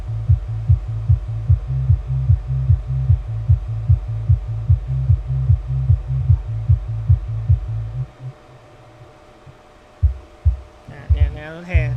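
A bass-heavy sound system under test pulses deep, booming bass thumps in a steady, rapid rhythm, then stops and gives way to a few scattered thuds and a warbling tone.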